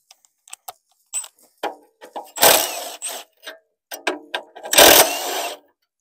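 Small impact gun spinning off heat shield bolts under a Ford Fiesta 1.0 EcoBoost, two loud whirring bursts with rattling impacts, set among quieter clicks and handling noises in a workshop.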